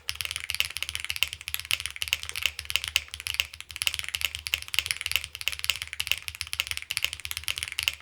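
Rapid typing on a Xenox mechanical keyboard fitted with HMX Hydra switches: a fast, continuous patter of close, crisp keystrokes with a slightly muted, foamy character and no talking.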